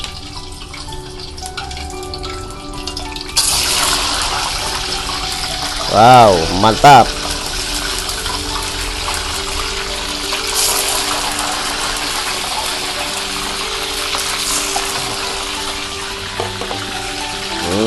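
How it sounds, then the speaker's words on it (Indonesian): Steady hissing sizzle of fish frying in hot oil runs throughout, with a brief exclaimed voice and a couple of short bursts in the middle. "Kita goreng sampai setengah matang."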